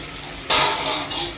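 Water splashes and rushes into a pot of fried jeera rice in a short pour, starting abruptly and continuing with uneven gurgling surges.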